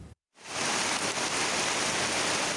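Continuous heavy monsoon rain pouring down, a dense, loud, steady hiss that starts abruptly after a brief silence and holds unbroken to the end.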